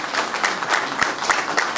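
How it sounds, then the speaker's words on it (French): Steady, loud applause fills the hall at a UDPS political rally, with many hands clapping in a dense, continuous patter and a few sharper claps standing out. "applaudis très très fort"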